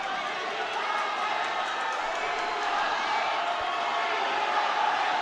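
Steady roar of a crowd filling a gym during a Philippine NBL basketball game, a continuous wash of cheering and murmur with no clear breaks, loud and close throughout.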